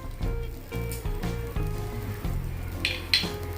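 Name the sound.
dried red chillies, grated ginger and curry leaves frying in oil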